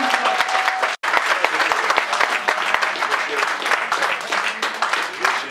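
Audience applause at a gathering, dense continuous clapping from a crowd that drops out for an instant near the start and then resumes at full strength.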